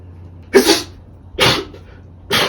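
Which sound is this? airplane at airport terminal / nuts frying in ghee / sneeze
sneeze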